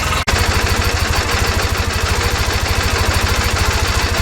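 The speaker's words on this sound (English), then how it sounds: "here it is running at low idle" A 2001 Triumph Bonneville motorcycle engine idles low and steady, its rapid, even pulsing thump continuous and close throughout, with one brief dropout near the start.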